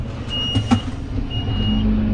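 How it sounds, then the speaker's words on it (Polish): Beeper alarm on a Fendt 933 tractor pulling an ST600 seed drill sounds as steady high-pitched tones in two spells, over a constant low engine rumble during wheat sowing after maize. "ten pipczak to jest okropny"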